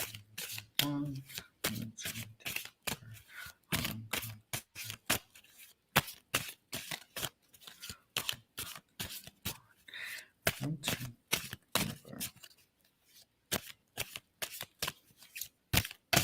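Playing cards are shuffled again and again close up, giving rapid crisp riffles and snaps in quick bursts, with a person talking at intervals between the shuffles.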